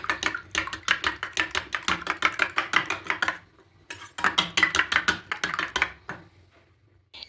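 Eggs with chopped onion and pepper powder beaten hard in a bowl, a quick run of sharp rhythmic clinks and taps close by, pausing briefly midway, then resuming before trailing off.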